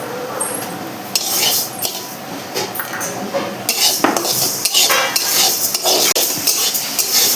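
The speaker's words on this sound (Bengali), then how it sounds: "ডালটা দিয়ে দেবো কড়াইতে ভাজার জন্য।" Mung dal being fried and stirred in a wok, close metallic scraping and clanks of a spatula against the pan in irregular bursts, with only faint frying sizzle underneath.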